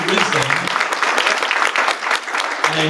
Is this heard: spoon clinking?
no